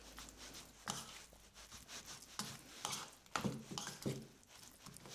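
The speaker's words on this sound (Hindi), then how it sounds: "पहले इसको अच्छे से मिक्स कर लेंगे।" A spoon stirs a cauliflower and pea curry mixture in a pan, giving soft, irregular scraping and rubbing strokes at a quiet level with no voices.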